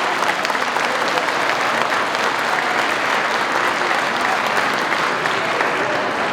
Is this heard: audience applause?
yes